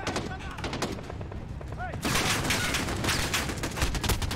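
Gunfire in the Modern Warfare campaign: rapid bursts of close shots, sparser at first and then a dense, louder volley, with speech faintly present.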